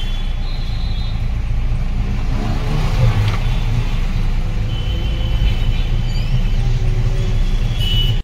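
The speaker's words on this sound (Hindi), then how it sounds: "चलते हैं गाड़ी बाहर कर लेते हैं पहले" A goods vehicle pulls out through an open gate, its engine rumbling steadily and close by for the whole stretch, with faint traffic and a brief higher tone in the background.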